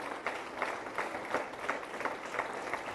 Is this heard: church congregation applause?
yes